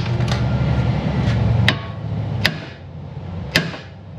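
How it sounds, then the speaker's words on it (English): Three sharp metallic hammer taps, spaced about a second apart, ring out close by over a low background hum, as a hammer taps a part loose during a Jetta engine install. "Little tap of the hammer, that'll come right out."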